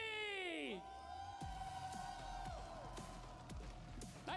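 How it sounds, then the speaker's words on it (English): A crowd at an esports event cheers for a team, a rising whoop of fans with sweeping tonal stage sound effects and thumping beats underneath, while a commentator talks over it. "Nice little reaction from the crowd there"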